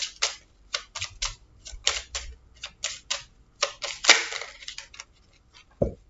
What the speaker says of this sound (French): je vais quand même mélanger